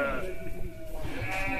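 Sheep bleat on a farm where ewes with large lambs are kept apart and fed grain and fodder, overlapping calls rising over a steady background of pen noise.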